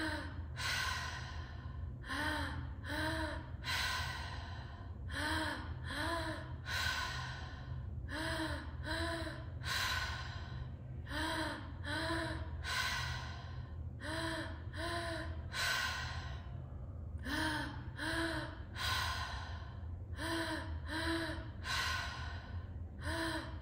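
Deep, rhythmic breathing in a guided breathwork exercise: a repeating cycle of forceful inhales and sighing exhales, close and loud, about every one to two seconds throughout, over a low background hum.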